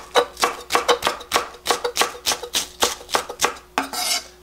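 Green onions chopped with a knife on a cutting board, a brisk, even run of about twenty close, crisp thuds in steady rhythm, with no talking.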